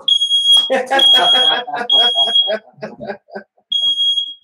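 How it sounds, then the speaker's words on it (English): A shrill smoke alarm, set off by vaping indoors, beeps loudly in repeated chirps while people shout and talk over it nearby. "This is what happens when you have smoke alarm."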